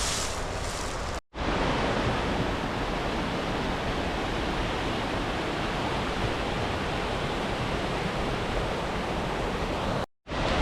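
A waterfall in a Colorado mountain town sends out a loud, unbroken rushing roar close by, cut off briefly twice.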